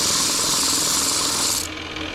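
A wooden boomerang edge is rounded on a lathe, giving a steady, loud, close-up rasping hiss that runs continuously and then drops slightly in brightness near the end.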